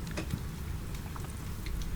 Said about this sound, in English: Rain drums harder on the shutters.